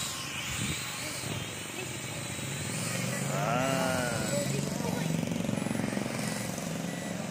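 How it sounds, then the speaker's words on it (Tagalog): A children's toy helicopter flies nearby as kids play, its whirring rising and falling over several seconds amid busy outdoor background noise, with a brief voice at the start. "Yung helicopter ng mga bata, naglalaro sila."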